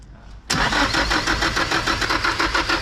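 A rebuilt Nissan SR20 engine cranks briefly and catches, bursting into a loud, steady running idle that holds close and strong with a pulsing rhythm.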